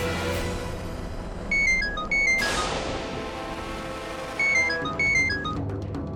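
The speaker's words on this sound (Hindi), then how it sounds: "फोन बज रहा है" A mobile phone rings in a TV drama scene, a repeated electronic melodic ringtone sounding in two bursts over a quiet background, with a brief swishing sound between them.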